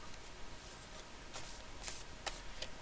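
Love Oracle deck cards being shuffled by hand, a quiet series of papery riffling bursts that recur irregularly over a steady low room hiss, with no talking.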